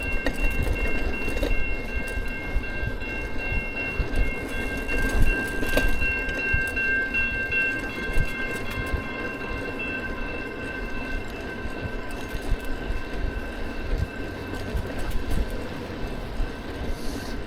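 A passing train rumbles and clatters past nearby for a long stretch, with uneven wheel knocks and a sustained high squeal or tone layered over the steady roar.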